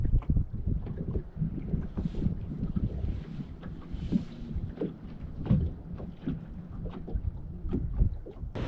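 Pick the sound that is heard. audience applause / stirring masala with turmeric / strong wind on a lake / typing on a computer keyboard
strong wind on a lake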